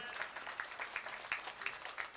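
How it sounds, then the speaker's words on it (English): Faint, distant clapping from a university graduation audience, a loose patter of many hands with a few sharper individual claps standing out, steady across the whole moment. "Let's clap generously, ladies and gentlemen."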